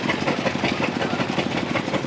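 A steady engine idles nearby with a regular low, pulsing throb that keeps a constant rhythm throughout.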